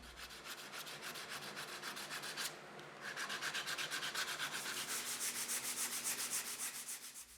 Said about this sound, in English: I go around the circle with 60 grit sandpaper, feeling with my fingers as I go to see where things are exceptionally uneven.